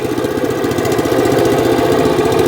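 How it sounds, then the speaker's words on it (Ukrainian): The engine of a WEIMA WM7BL-400 dumper runs loud and close with a steady, throbbing mid-pitched chug as the machine drives off, with no voices. "І думпер поїде на виробництво."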